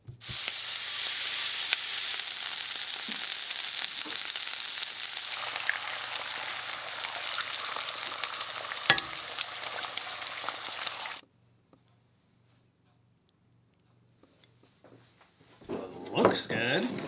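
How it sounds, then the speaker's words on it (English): Caribou backstrap frying in olive oil gives a loud, dense sizzle for about eleven seconds, then cuts out to near quiet before a brief burst of talk at the end. "We're gonna cook it in olive oil."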